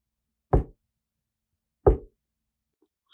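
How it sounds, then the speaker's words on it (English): Two slow, heavy knocks on a door, spaced more than a second apart, land sharp and close against total silence in a horror story. "There was a knock at the door."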